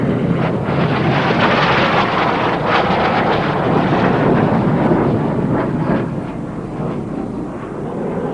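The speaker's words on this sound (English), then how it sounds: "The MB339 is a trainer, but it can also carry weapons." Aermacchi MB-339 jet trainer flying at the Royal International Air Tattoo airshow, a loud roaring rush with wind buffeting that swells and then eases off toward the end.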